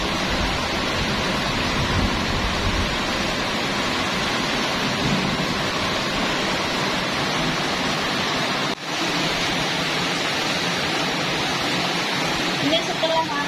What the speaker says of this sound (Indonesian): Hujannya deras sekali teman-teman.